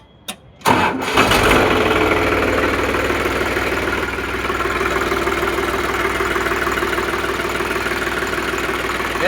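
A tractor with a self-starting battery and a powerful engine turns over briefly, then settles into a steady, loud idle with a continuous rumbling throb that runs alone for the rest of the time.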